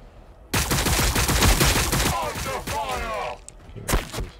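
Gunfire in the Warhammer 40,000: Battlesector video game, a dense burst of rapid shots and heavy impacts starting abruptly and running loud for several seconds, with a few more sharp cracks near the end, mixed with game voices.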